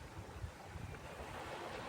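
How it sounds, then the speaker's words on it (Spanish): Sea waves wash steadily and softly on a shore, a continuous rhythmic rush of surf with a breezy hiss and no voices. "El vaivén del mar es rítmico, casi como una cuna invisible"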